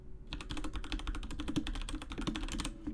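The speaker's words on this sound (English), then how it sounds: "Sorry if my keyboard's loud. I have it right beside my mic." Rapid, steady keystrokes clatter on a loud computer keyboard sitting right beside the microphone, close and dense for the whole stretch with no voices.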